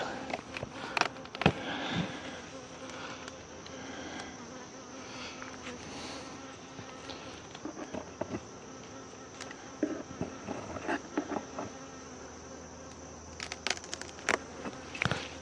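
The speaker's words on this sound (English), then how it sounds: "I have a bee buzzing in my ear" A honeybee buzzing right beside the ear while a beekeeper checks a hive super in mid-August, with steady insect drone throughout and scattered clicks and knocks of hive handling, no talk.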